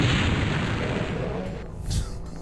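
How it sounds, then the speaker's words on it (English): A rocket blast in the shooter game Doom: The Plutonia Experiment, a loud, broad booming roar that rumbles for about two seconds before a brief trailing flare. "And I heard a rocket."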